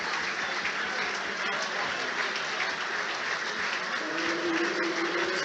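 Arsenal fans in a Premier League stadium cheering a substitute coming on against Brighton, a broad sustained roar of crowd noise with scattered clapping, continuous and fairly distant.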